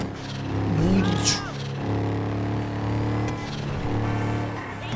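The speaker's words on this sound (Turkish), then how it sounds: "Turboyu duyuyor mu turboyu?" A turbocharged Tofaş car engine revs in GTA 5, a steady droning rumble that swells into a higher whine near the start, then settles into a continuous loud hum.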